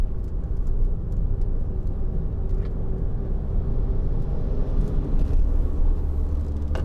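A 2012 Skoda Yeti 2.0 TDI diesel driving through a corner after a drop into third gear, with steady low engine and road rumble heard from inside the cabin and no talk.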